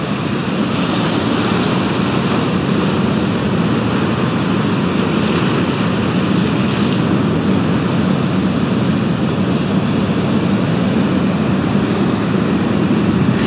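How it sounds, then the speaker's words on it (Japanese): Heavy surf pounds a rocky coastline at Hadatachi Beach in Iwaki, Fukushima, a steady broadband roar of breaking waves with wind buffeting the microphone throughout, loud and continuous with no pauses. "めっちゃ波激しいあっち"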